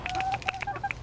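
Backyard chickens cluck in quick, irregular bursts, several short bright calls close by over a faint background, with no talking.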